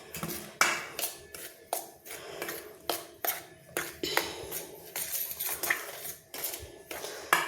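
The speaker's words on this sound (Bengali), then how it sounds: "একটা চামচ দিয়ে কিন্তু এইভাবে কিন্তু লবণটাকে দিয়ে আমি মিক্সড করে নেব" A spoon stirring wheat and refined flour with salt in a bowl, repeated rhythmic scraping and clinking strokes, close and clear, with no voices.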